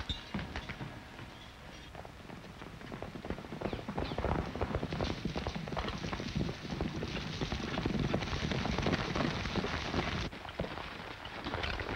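Hooves clip-clop in a busy, continuous patter as several horses move together, fairly close, with no talking over them.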